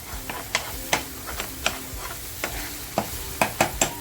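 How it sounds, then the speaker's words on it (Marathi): Green masala for silver barfish is stir-fried in a pan, with irregular sharp scraping taps of a spoon over a steady soft sizzle, close by and with no talking. "आपला मसाला खमंग परतवून झालेला आहे"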